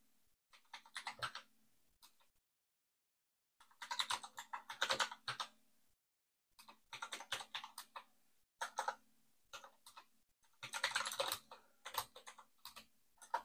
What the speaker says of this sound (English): And I'll just type it in manually.